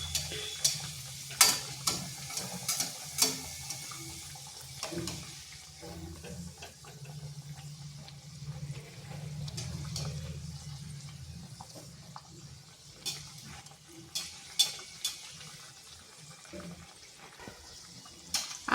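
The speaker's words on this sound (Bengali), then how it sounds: "তাই আমি দুটো করেই ভেজে নিচ্ছি।" Two snack pieces frying in hot oil in a small wok over medium heat, a steady soft sizzle with intermittent crackling pops and stirring clinks, fairly close and moderately quiet with no talking.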